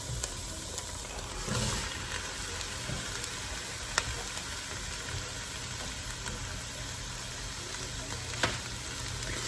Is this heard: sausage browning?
yes